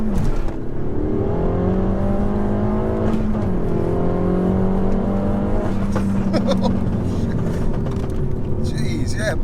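A 300bhp stage 2 Peugeot 308 GTi accelerates hard, heard from inside, its engine note climbing through the gears with loud continuous roar and brief shift dips while occupants talk over it.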